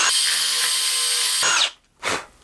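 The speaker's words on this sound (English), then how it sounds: "I'm going to use a 1/4 inch drill bit for each of these holes" Power drill with a 1/4 inch bit boring holes in a cedar board, a loud sustained whine that stops abruptly, then a brief second burst after a short pause.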